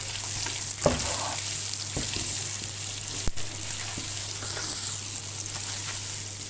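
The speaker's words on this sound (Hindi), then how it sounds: "प्याज को फ्राई करूंगी।" Steady, close sizzling of chopped onion frying in hot oil, with a few soft stirring clicks and no talking.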